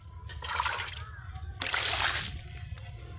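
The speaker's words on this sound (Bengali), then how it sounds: "মাছ ধোয়া হয়ে গেছে, দেখুন আর একবার ধুয়ে নেব," Fish being washed in water at an outdoor picnic, with two bursts of splashing and sloshing close by, the second louder, over a low background hum.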